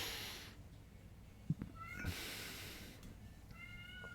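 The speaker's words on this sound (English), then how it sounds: "You might hear my cat, Sunny, in the background." A house cat meows in the background of a quiet indoor room, a few faint, drawn-out calls with soft thumps nearby.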